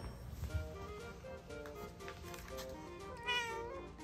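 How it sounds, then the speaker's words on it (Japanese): A black cat meowing indoors, several drawn-out meows in close succession, near and fairly clear, with a louder, higher call toward the end. "黒猫しんちゃん、ただいま"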